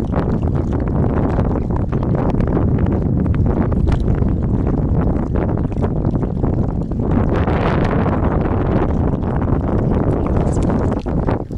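Steady wind roars across the microphone at an autumn crucian carp fishing spot, a dense, continuous rumble and buffeting that never lets up.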